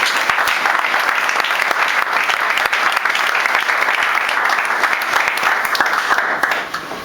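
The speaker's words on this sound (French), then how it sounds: "On acclame pour le Seigneur." A church congregation breaks into sustained, dense applause for the Lord, loud and even throughout about seven seconds, with crowd noise mixed into the clapping and a slight drop near the end.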